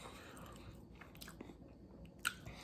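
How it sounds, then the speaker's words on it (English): Quiet, close chewing of a Fatburger veggie burger during a mukbang, soft wet crunching and biting with one sharper bite near the end, and no talking. "A lot of chewing tonight."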